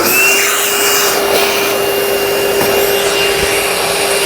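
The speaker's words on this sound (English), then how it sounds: "We're going to use our vacuum to suck it all up" A loud shop vacuum sucks up debris inside the cab of a 2007 Dodge truck, a steady high-pitched whine with a constant hum and scraping rattles as bits are drawn in, running without pause.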